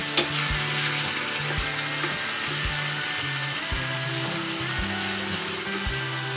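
Beef sizzles and fries loudly with bird's eye chilies in a hot pan, a dense steady hiss broken by repeated scrapes and clanks of stirring, with no voices.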